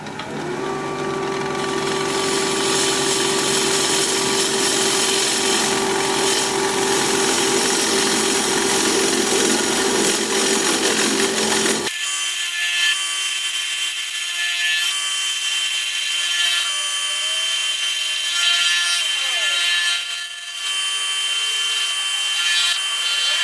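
A wood lathe spins a turning as a gouge shapes a taper, a loud scraping cut over a steady motor whine; the cutting stops partway and the lathe keeps humming alone.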